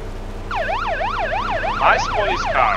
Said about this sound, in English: Nice police car.